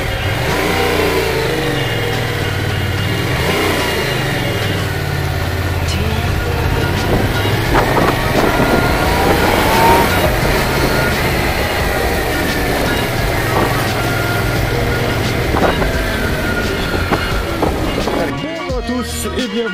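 Yamaha MT-07 motorcycle riding off in Thailand, a continuous loud engine drone with rising and falling revs and strong road and wind noise throughout, fading near the end.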